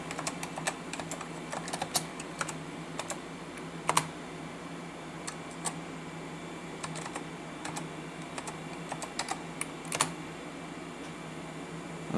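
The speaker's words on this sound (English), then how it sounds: "Let's type in uname A." Computer keyboard typing a command on an IBM RS/6000 workstation setup, a run of close, light key clicks over a constant fan hum.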